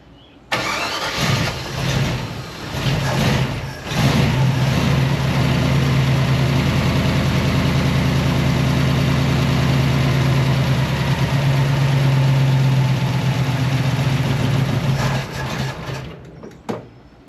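A long-abandoned small block Chevy V8 with its choke on fires up after a few cranking bursts and settles into a loud, steady, slightly raised idle close by, then cuts off abruptly.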